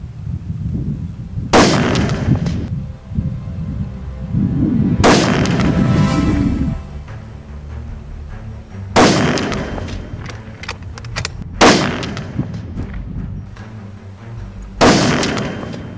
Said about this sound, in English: going to be shooting this target from 100 meters away